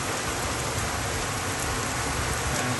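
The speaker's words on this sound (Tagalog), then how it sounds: "So ayun na guys, lumakas na ang ulan." Heavy rain pours down in a steady, dense hiss, loud and close and unbroken throughout, with no voices.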